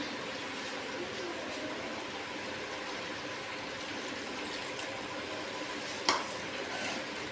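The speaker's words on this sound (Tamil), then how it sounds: "அதை இப்போ நெய் காய்ச்சிட்ருக்குங்க." Butter simmering into ghee in a pan, giving a steady, dense bubbling sizzle with soft stirring scrapes throughout and one brief sharp clink near the end.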